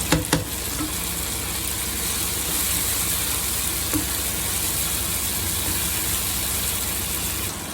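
Green chili frying in a pan for chicken curry, a steady close sizzle with a few sharp clatters at the start and a brief knock midway, running unbroken without speech.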